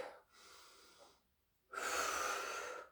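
Deep breathing during a fitness workout: a softer inhale followed by a pause and then a long, loud, close exhale, with no talk.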